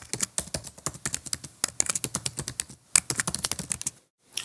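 Someone typing a username on a computer keyboard: a quick run of close, crisp key clicks in an uneven rhythm with a brief pause, ending in silence, no talk.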